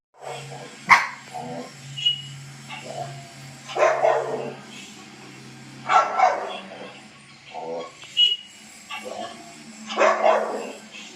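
A frightened pet dog barks in several loud bursts spaced a couple of seconds apart, close by and with no talk over them.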